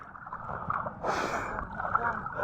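Wind and big waves wash around a small fishing boat at sea, a close, uneven whooshing and splashing with a louder surge in the middle, briefly under a speaking voice.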